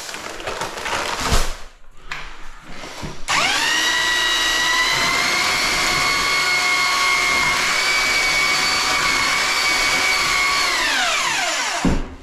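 Electric mixer churning pre-mixed sand and cement with additives for tiling: a few scraping knocks, then the motor whines up to a loud, steady drone held for several seconds before winding down, with no talking.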